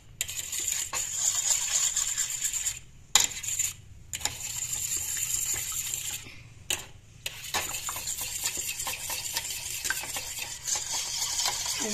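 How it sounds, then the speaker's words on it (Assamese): Salt, turmeric and chilli powder are stirred through in a pan, with steady scraping and clinking of a utensil against metal, short gaps breaking the rhythm and a low sizzle underneath, close and without talk. "এইখিনি এতিয়া এনেদৰে লৰাই দিম"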